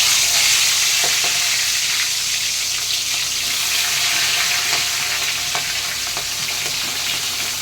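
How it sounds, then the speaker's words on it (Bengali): Prawns frying lightly in hot oil in a wok, a steady loud sizzle with crackling pops and occasional stirring scrapes throughout, no voices. "এই মাছগুলোকে আমি একটু হালকা করে ভেজে নেব।"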